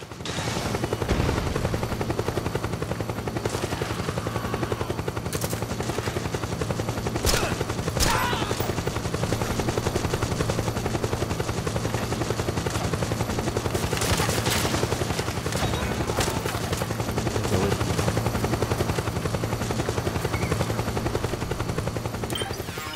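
Helicopter rotor drone with bursts of gunfire and sharp impacts in the PS3 video game Metal Gear Solid 4: Guns of the Patriots, a steady loud roar throughout with scattered shots and a few cracks standing out.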